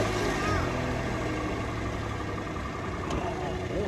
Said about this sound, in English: It's been sat for all that time, and first flick of the key, it's up and running.